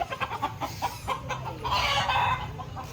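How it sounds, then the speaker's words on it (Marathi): Roosters squabble and cluck close by in a farmyard, with sharp repeated calls in quick bursts that swell into a louder, busier flurry before easing off; no one speaks. "खूप मारामारी करतात हे कोंबडे"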